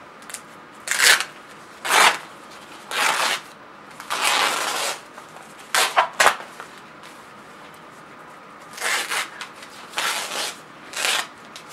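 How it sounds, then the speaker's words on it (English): Plastic backing being peeled off a finished fabric patch after lifting an edge with sharp scissors, a series of separate crinkly rips and crackles in short bursts with quiet pauses between, close up. "peel off any other remaining plastic I may have"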